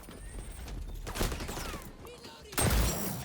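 Shotgun fire in a shooter video game: two loud, separate blasts, one near the start and a heavier one near the end, among background game noise.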